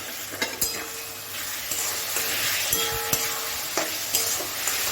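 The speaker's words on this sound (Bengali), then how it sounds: "যতক্ষণ না এটার মধ্যে পুরো পেঁয়াজে টমেটোতে মাখা মাখা হবে ততক্ষণ আমি এটা ভাজবো।" Onions and tomatoes frying in a pan for a matar paneer curry, a soft continuous sizzle broken by several sharp clinks and scrapes of a utensil against the pan.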